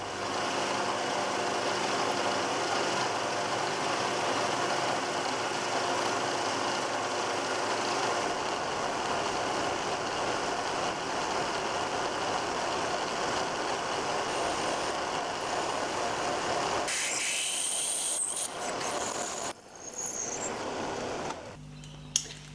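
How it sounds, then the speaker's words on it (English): A drill or machine tool whirs steadily while holes are bored in a metal part for a Stuart Turner 10H engine, a continuous loud drone with a tonal hum that shifts partway through, then stops amid a few clattering handling noises. "Okay, that takes care of all the hole drilling."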